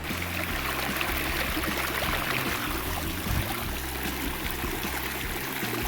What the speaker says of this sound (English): I'm gonna fill this with water